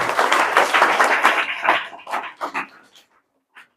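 A classroom of students claps loudly together, a thick wash of hands that breaks into a few separate claps and stops, followed by one last stray clap.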